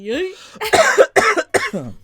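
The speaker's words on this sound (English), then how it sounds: "my producer's coughing fit" A person coughs repeatedly in a short burst, several harsh coughs in quick succession, close and loud.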